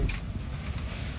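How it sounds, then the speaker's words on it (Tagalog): Strong wind buffets the microphone with a continuous low rumbling roar that stays steady and dominant across the brief moment. "Malakas ng hangin."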